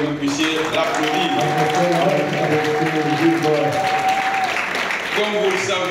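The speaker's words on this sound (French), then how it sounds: "pour que vous puissiez l'applaudir" Audience applause at a political gathering in Congo as a professor is invited to stand, a dense, steady wash of clapping that holds for about six seconds under sustained tonal music or voices.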